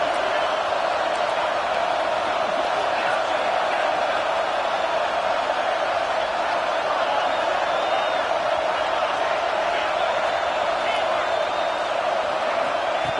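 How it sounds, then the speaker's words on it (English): Home crowd at an OU versus Penn State football game roaring loudly and continuously, a thick sustained stadium din with whoops rising out of it. "how nice is it to have the home crowd going absolutely bananas?"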